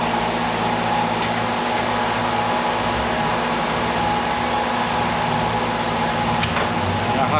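A small hydraulic scrap-processing machine with cold hydraulic oil runs with a loud, steady mechanical whir and hum, unbroken and close, with no voices.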